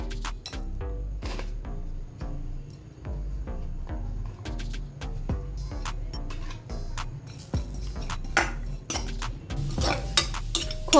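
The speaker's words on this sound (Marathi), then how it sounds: "आता याच कढईत आपण आपलं खोबरं जे आहे ते सुद्धा भाजून घ्यायचं आहे" Grated coconut dry-roasts in a kadai as a spatula stirs it repeatedly, making rhythmic scraping and metal clinks over a soft sizzle. The clatter grows busier toward the end.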